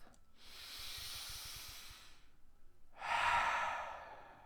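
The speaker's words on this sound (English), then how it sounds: "Bat takes a deep breath." A deep breath taken on an autumn hillside at the edge of town: a long, airy inhale followed after a short pause by a stronger, breathy exhale, close and alone with no talking.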